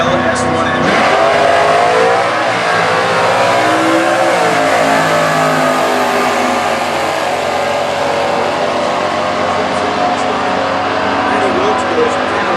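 An A-Stock automatic 2000 Pontiac Firebird with a 346 cubic inch LS1 engine roars continuously and loudly at a drag strip during Stock Eliminator racing at the US Nationals.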